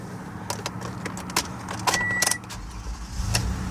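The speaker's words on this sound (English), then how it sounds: "When I go to turn the vehicle on," Keys jangle and a 2016 Toyota Sienna L wheelchair van starts, with clicks and brief metallic rattles followed by a low engine rumble settling in near the end, close and fairly clear.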